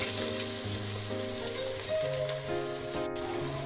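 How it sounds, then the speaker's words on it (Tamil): Chopped onions fry in hot ghee with fennel seeds, a close, continuous, even sizzle and crackle like light rain that holds steady without any talking. "இப்போ நம்ம வெட்டி வச்சுருக்க வெங்காயத்தை போட்டுடலாம்."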